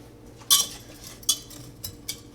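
Metal kitchen utensils clinking and rattling as a whisk is pulled from a holder, a few sharp close clanks spaced apart over a quiet background.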